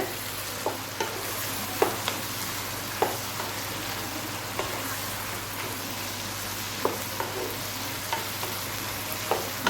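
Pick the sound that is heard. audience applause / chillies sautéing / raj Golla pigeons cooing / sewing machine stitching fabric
chillies sautéing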